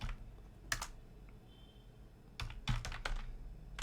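Typing on a computer keyboard, a few isolated close keystrokes followed after a pause by a short cluster of quick clacks, alone with no voices.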